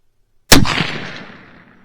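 A single loud, close Sako rifle shot firing a 40-grain round outdoors, a sharp crack followed by a long rolling echo that fades over about a second and a half.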